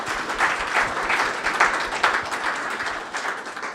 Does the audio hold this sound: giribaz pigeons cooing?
no